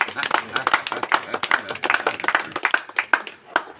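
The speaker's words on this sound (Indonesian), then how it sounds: "Tepuk tangan buat ibu rumah tangga." An audience at a gathering of a team recounting their stay in Samosir claps in a dense, uneven patter of hand claps for several seconds, with voices mixing in.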